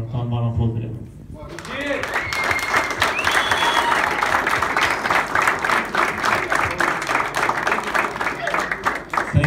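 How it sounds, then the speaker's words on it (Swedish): A crowd at a football club's victory celebration claps warmly, the applause swelling quickly after a brief bit of talk and holding steady as a thick, continuous patter, with scattered voices and cheers mixed in. "Så att jag tycker vi ska ta en varm applåd för det."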